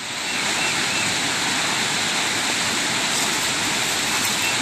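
Water rushing and roaring down Pole Brook into a pond, a loud steady broadband wash that fills the scene without pause.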